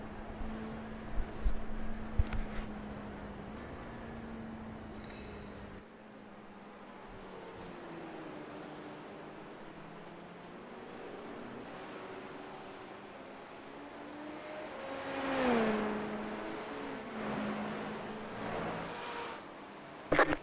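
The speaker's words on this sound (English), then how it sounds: "let Nathan entertain you with the melodious sounds of the Gibson V8" Gibson V8 race car engine heard from onboard, a steady droning hum that dips and shifts with gear changes and swells briefly mid-run, fairly faint against the background.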